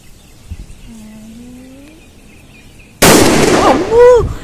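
A Diwali firecracker thrown onto the ground bursts with a sudden loud crackling blast that fills the last second and a half, after a quiet stretch with faint birdsong.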